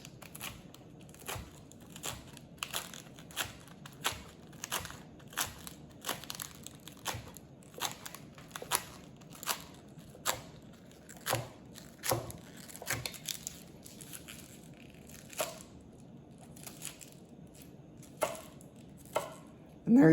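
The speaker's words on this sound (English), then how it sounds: "We'll roll it up, and we're going to basically like julienne it into little sauerkraut-like slices" A knife slices rolled collard green leaves into thin julienne strips, landing as sharp, close, crisp chops on a board in a steady rhythm of roughly one stroke per second, with no voices.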